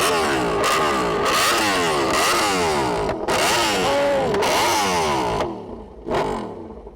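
A Yamaha R1M superbike revs hard during a launch, loud repeated rising and falling engine sweeps with clattery bursts, cutting off sharply near the end before a final short blip.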